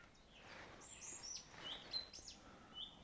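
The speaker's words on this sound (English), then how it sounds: "Birds are noisy a bit." Birds chirp and call near a tent at dusk in light wind, several bright tweets and short whistles scattered over a faint, steady background hiss.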